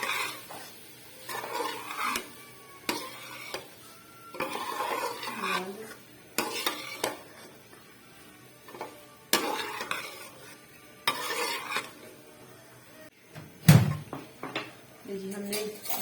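Boiled macaroni goes into a pan and is stirred, producing repeated bursts of scraping and clinking from a spoon against the metal pan at close range, with quiet pauses in between.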